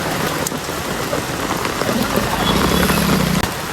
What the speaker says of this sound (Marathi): खूपच पाऊस आहे इथे.